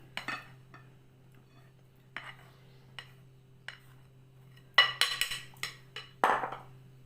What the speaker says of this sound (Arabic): دابا غادي نزيد الطحين، نسوس هادي مزيان.